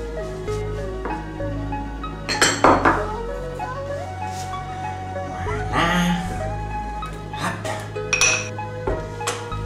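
Drained candied fruit being mixed into batter in a bowl for a Montpensier cake, with clinking and scraping of a utensil against the bowl in uneven bursts, close and fairly loud.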